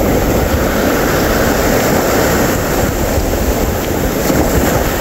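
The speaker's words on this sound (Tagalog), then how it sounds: "Biglang lumalaki yung alon." Ocean waves churn around a small fishing boat out at sea, a loud, continuous rush of water mixed with heavy wind buffeting the microphone and no voices.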